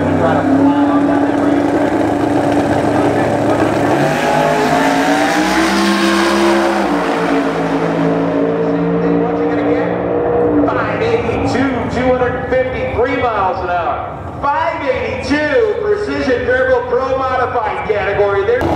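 Race car with a 526 cubic inch Ford engine roaring on a racetrack, loud and sustained, climbing in pitch as it accelerates away, with an announcer talking over it throughout.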